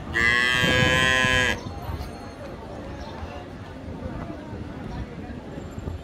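A Friesian cow moos loudly and steadily for about a second and a half at a cattle market in Raniganj, Dinajpur, then the low murmur of the market crowd continues alone.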